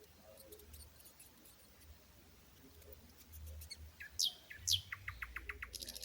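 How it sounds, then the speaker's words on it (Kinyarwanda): Mice give quick, high, thin squeaks near the end, two sharp rising chirps followed by a rapid string of tiny ticks, faint against a quiet background with soft rustling. "Imbeba zirajwigira."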